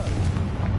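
A Confringo fire spell bursts in the video game Hogwarts Legacy, a short, deep boom with a rumbling, crashing tail, loud and close.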